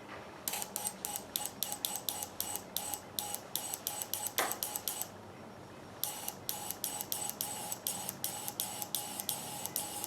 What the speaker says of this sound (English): now we're shooting straight cleaner right through the injector